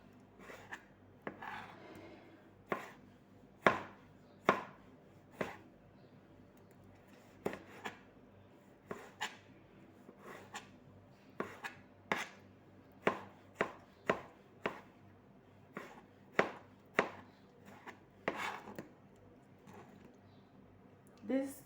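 Sharp knife chopping tomatoes into very small pieces on a board, a long run of distinct crisp taps, irregular and close, with a faint quiet background between strikes.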